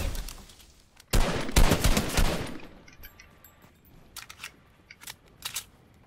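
Video game gunfire: a loud, close volley of rapid shots lasting about a second, followed by scattered fainter single cracks and short bursts further off.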